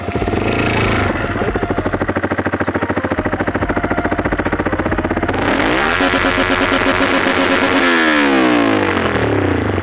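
A loud motorcycle engine rumbles steadily at close range, its pitch shifting and rising as it revs up partway through.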